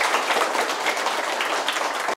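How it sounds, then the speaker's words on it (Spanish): Steady applause from a crowd at the dedication of a senior adult home in Luz y Paz, a dense wash of clapping that holds at an even level throughout. "quiero dar un fuerte aplauso"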